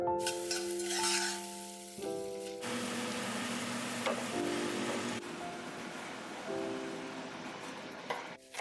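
Onion, garlic and tomato fry in a pan for a pasta sauce, making a steady, moderate sizzle with occasional stirring scrapes beneath sustained background music.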